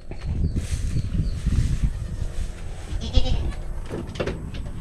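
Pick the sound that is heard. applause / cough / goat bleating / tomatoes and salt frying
goat bleating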